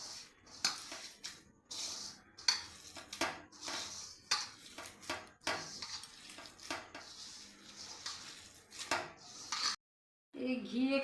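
Semolina being stirred and mixed in a bowl for gulab jamun, with repeated scraping and swishing strokes, fairly close and alone, then a brief silence before a short different sound.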